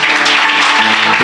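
A church congregation applauding their bishop at a service, a dense, steady wash of clapping that fills the short moment without pause, with a faint held tone humming beneath.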